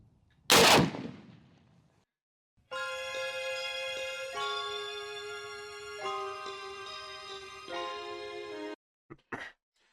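AK-50 rifle firing one sharp, loud shot near the start, followed after a pause by a long sustained ringing tone and a few brief sounds at the end.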